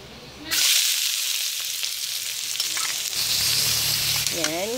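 Oil in a hot wok starts frying loudly for pansit bihon guisado, a sudden dense sizzle that stays steady and close, with a brief clatter of stirring near the end.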